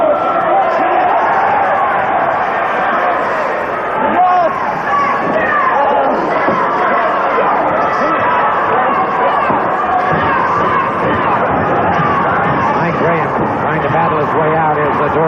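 A wrestling crowd at a 1984 championship tag-team match chants for Mike Graham, a steady, dense roar of many voices throughout, with a commentator talking over it.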